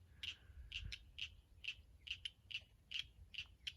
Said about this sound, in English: In fact, I'd definitely say that's a cricket frog